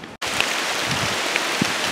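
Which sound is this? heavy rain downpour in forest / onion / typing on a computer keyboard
heavy rain downpour in forest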